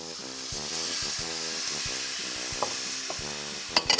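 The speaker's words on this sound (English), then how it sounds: "now we're gonna toss in our veggie broth" Vegetable broth poured into a sauce in a pan, a steady close sizzle with faint stirring clinks and a few sharp utensil knocks near the end.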